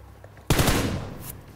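P90 submachine gun fired in PUBG during a Mecha event match, a sudden loud burst of rapid automatic shots that trails off into a fading echo.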